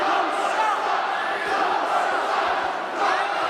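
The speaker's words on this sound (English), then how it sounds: "Crowd giving him the same response they give to Bryan Nelson." Wrestling crowd at a WrestleFest show reacting to Nick Cutler as he holds the microphone, a steady loud roar of mixed chanting and yelling throughout.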